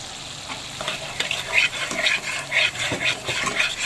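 Spice masala for a rohu fish korma being stirred and fried in a pan, with steady close sizzling and repeated scraping strokes of the spoon across the pan.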